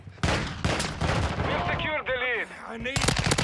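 Rapid automatic fire from a Chimera assault rifle in Modern Warfare 2, loud bursts of dense shots close up, with a game voice or effect sweeping through the middle and more firing at the end.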